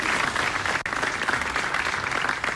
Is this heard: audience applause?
yes